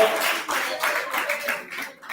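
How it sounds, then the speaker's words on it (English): Audience applause at a primary schools quiz final, a dense patter of clapping filling the hall for about two seconds, with a voice faintly audible underneath. "we owe them a big round of applause"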